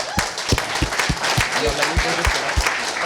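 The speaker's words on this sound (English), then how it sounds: "another massive round of applause" A room full of people at a talk event applauds steadily, with a few louder individual claps standing out in the sustained clapping.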